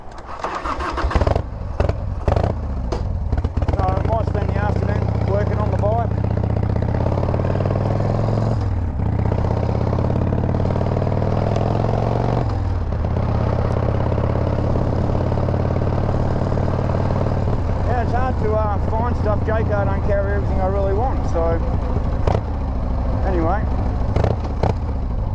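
A Harley-Davidson motorcycle rides through Melbourne city traffic, its close, loud engine rumbling steadily, rising and falling with repeated revs and gear changes, with a voice occasionally heard over it.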